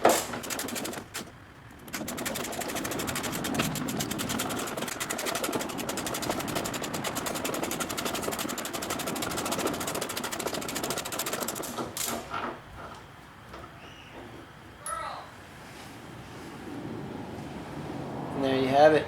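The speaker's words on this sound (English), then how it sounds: "ratchet this thing until it comes loose" Ratchet loosening the engine cradle bolt on a Pontiac Fiero with a 2.8 V6, a busy stretch of rapid mechanical clicking and clatter that stops abruptly, followed by quieter handling noises.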